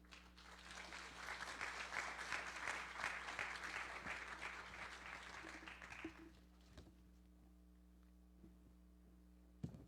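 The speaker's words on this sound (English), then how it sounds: "Let's give him another round of applause" An audience at a Gullah Geechee cultural gathering in a Charleston, South Carolina church hall breaks into sustained applause that swells, holds for several seconds, then fades out, leaving a quiet hum.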